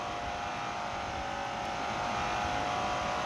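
A race car engine screaming at high speed in the Assoluto Racing video game, a constant, dense high-pitched whine that swells slightly toward the end, heard alone.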